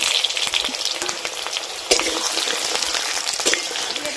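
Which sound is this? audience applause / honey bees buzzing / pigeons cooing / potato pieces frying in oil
potato pieces frying in oil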